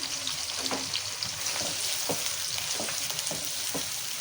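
Sliced onions frying in oil for a Mughlai green moong dal: a dense, continuous sizzle and crackle with scattered soft stirring scrapes, steady and close, with no talk.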